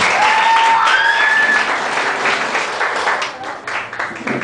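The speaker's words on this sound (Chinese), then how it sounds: "他需要你们给他一点鼓励的掌声" An audience claps warmly to encourage a singer, with dense, sustained applause and a bright whistle near the start before the clapping thins slightly toward the end.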